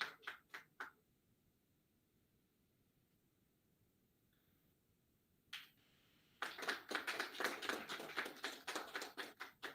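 An audience applauding at a ceremony for a philatelic exhibition opening, with a few scattered claps, a quiet pause, then a single clap followed by a sustained burst of clapping from the crowd.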